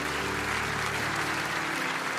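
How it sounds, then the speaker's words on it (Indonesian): A worship congregation claps together for God, a thick continuous wash of applause with sustained musical tones humming underneath. "Kasih tepuk tangan dulu buat Tuhan."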